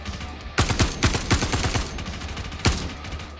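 Gunfire in the Star Citizen video game: a rapid close burst of about half a dozen sharp shots, a short pause with lingering echo, then one more loud single shot.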